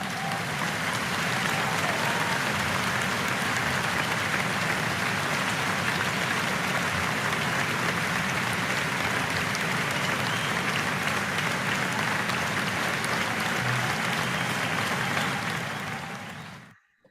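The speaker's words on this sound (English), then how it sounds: "Big applause for you guys." Classroom of students applauding together, a long, loud, steady patter of clapping that runs for many seconds before cutting off abruptly at the end.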